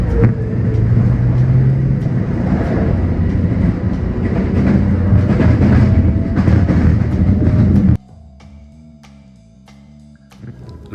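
A New York subway train rumbles loudly into Wakefield station in the Bronx, with a continuous roar of wheels on rails that cuts off abruptly, leaving a quieter hum and squealing tones as it slows.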